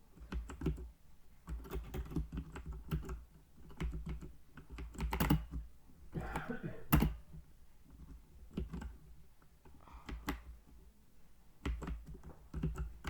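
Fast typing on a computer keyboard, a dense run of close, crisp key clicks and taps in uneven bursts with brief pauses, heard alone without talking.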